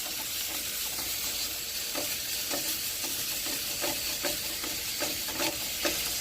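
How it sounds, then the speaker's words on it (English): Lean ground beef sizzles steadily in a skillet while a spatula scrapes and breaks it apart in regular strokes, the frying hiss soft and continuous beneath the repeated scraping. "we're going to add 1 pound of lean ground beef, and we're going to break it up with a spatula"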